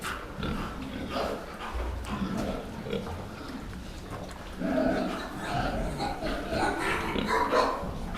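Pigs grunting and snorting close by, with someone talking over the animal noises throughout.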